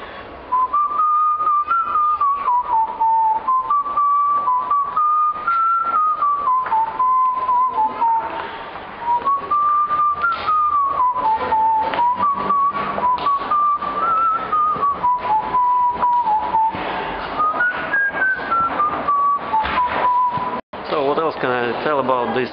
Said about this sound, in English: we've got pretty good acoustics here, and I can make a little whistle for you.